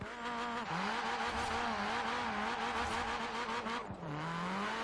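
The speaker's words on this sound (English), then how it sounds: "Let's do a little launch here, shall we?" Hyundai Veloster N in Forza Horizon 4 launches from a standstill, its engine note climbing steeply through the revs, dropping at a gear shift near the end, then rising again, loud and alone.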